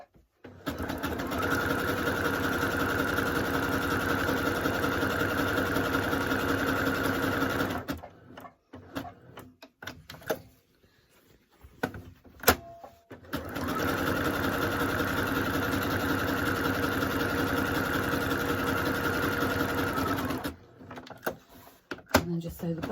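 Home sewing machine stitching an appliqué candle flame on a Christmas table runner, running in two steady, close, buzzing spells separated by a quiet pause with faint handling noise.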